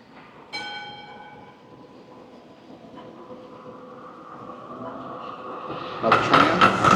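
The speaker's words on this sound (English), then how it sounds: "Another tram." A Melbourne tram passes along Swanston Street in the early morning: a single bright bell ding rings out near the start, then a low rumble builds steadily into a loud, close pass at the end.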